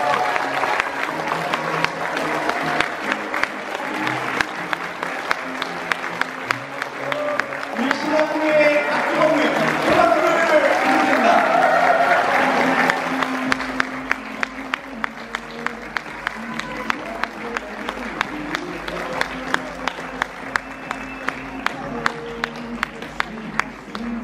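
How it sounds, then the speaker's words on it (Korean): Wedding guests at a ceremony in a Suwon hall applaud as the groom walks in, sustained clapping swelling mid-way with crowd murmur and music underneath, then thinning to lighter scattered claps. "하객 여러분은 힘찬 축하의 박수로 맞아주시길 바라겠습니다"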